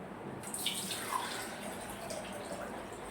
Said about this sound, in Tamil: வடிகட்டி இதில் வந்து வடிகட்டிக்கலாம்